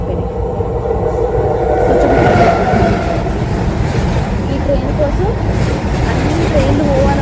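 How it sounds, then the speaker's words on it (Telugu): A passing train rumbles steadily past a halted train with a continuous rolling roar and faint wheel clatter, loud and close, with people talking underneath. "ట్రైన్ పోవాలని మా ట్రైన్ ఆపుతున్నాడు."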